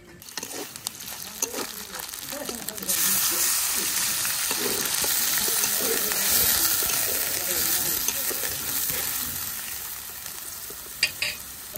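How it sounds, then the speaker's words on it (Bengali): Onion and green chilli fry in a pan with a loud, steady sizzle that swells after a few seconds and holds. Stirring clinks cut in at the start and end, close by. "পেঁয়াজ কাঁচা মরিচটা খুব ভালোভাবে ভেজে নিচ্ছি"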